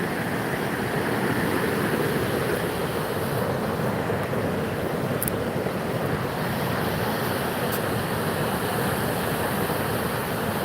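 Flowing water from a small creek at a steelhead spawning ground, a steady broadband rush that goes on without a break. It stays loud and close the whole time, with some wind noise on the microphone and no talking.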